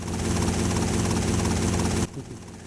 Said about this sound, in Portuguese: E agora o helicóptero vai demorar a subir, né?